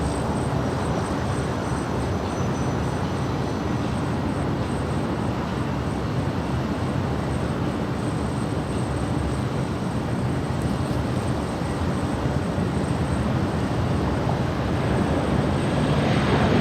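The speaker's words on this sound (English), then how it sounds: "SAS will be landing on the south." An SAS airliner landing at Los Angeles airport, a loud continuous jet engine roar sustained throughout and swelling slightly toward the end, heard from a spotting position without speech.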